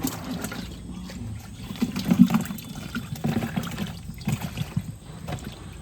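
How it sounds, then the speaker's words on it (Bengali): Live fish thrashing and splashing inside a container of water, a busy stream of close wet sloshes and slaps with stronger bursts in the middle, continuing without talk. "মাছগুলো ভিতর খলখল খলখল করতেছে"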